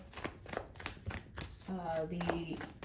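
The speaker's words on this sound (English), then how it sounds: "Just going to shuffle the cards." A deck of tarot cards is shuffled in a steady series of quick riffling snaps, close up, with a brief voice murmuring near the end.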